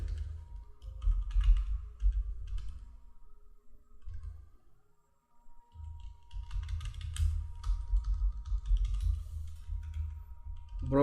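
Computer keyboard being typed on to enter expense figures, a quick, irregular run of close key clicks and taps with a short pause midway, no talk over it.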